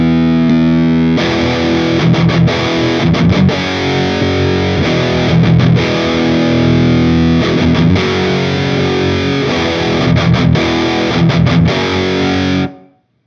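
An electric guitar plays through a germanium treble booster pedal set to low gain, giving a loud, sustained distorted tone with rhythmic strummed chords and brief choppy breaks before the sound cuts off abruptly.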